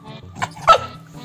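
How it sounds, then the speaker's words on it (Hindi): A dog gives a couple of short barks and yips, fairly close, with a soft whine between them, during obedience practice at home. "बेलजी भौंक, भौंक बच्चे, भौंक, भौंक"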